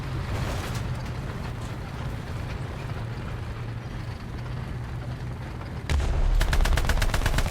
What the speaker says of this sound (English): And I got what feels like a 30 caliber machine gun